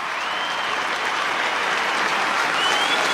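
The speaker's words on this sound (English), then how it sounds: "the Hawks fans have something to cheer about" Hawthorn supporters cheering and applauding at an AFL match against Fremantle, a continuous wash of crowd applause and noise from a large stadium audience, steady and fairly loud throughout.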